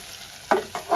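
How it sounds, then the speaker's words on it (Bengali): Spice tempering of dried chilli and bay leaf poured into semolina khichuri gives two sudden sizzling bursts, each fading briefly, with a louder hiss swelling at the end; close by and without talk. "আমি ফোড়নটা ঢেলে দিয়েছি।"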